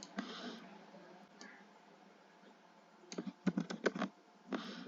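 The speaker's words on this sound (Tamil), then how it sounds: "டைப் பண்ணிட்டேன்." Typing on a computer keyboard: faint, quiet key clicks, a few early taps and then a quick cluster of sharper clicks near the end, with a soft background hiss.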